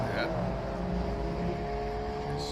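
A classic Opel race car crosses the finish line at the Simola Hillclimb, its engine droning steadily in the background beneath a commentator's talk.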